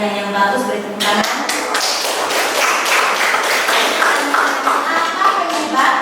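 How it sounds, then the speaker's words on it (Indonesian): A classroom of students claps for a good question in an economics lesson, a close, uneven burst of individual hand claps and taps with some voices mixed in. "beri tepuk tangan"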